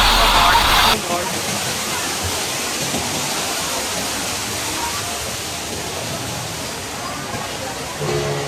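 Loud, constant rush of a waterfall close by, a broad hiss that fills the whole span with a brief sharper burst at the start.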